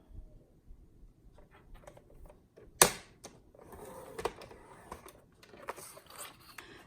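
Cardstock is scored with a bone folder for a triple fold card. A sharp tap is followed by faint scraping and small clicks as paper is handled up close, quiet and intermittent.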